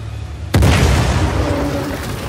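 A C4 charge detonating and destroying an APC in Uncharted: The Lost Legacy, a single sudden loud boom with a deep rumbling tail that lingers and slowly fades.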